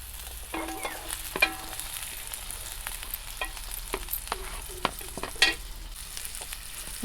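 Groundnut oil frying in a pan in a village kitchen before country chicken goes in, a steady close sizzle broken by scattered pops and crackles, with occasional soft clinks of stirring.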